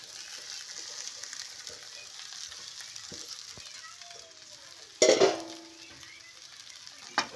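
Green chillies sizzling in a pan for sabudana khichdi, a soft steady frying hiss with a sharp burst of sizzle midway as they are stirred and turned, then settling back to a quiet fry.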